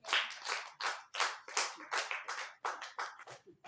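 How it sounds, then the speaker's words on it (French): Applause from a small audience at a Bible study class, heard as bursts of close, fairly loud clapping in an uneven rhythm that stop and restart several times with no voices. "Applaudissez pour elle."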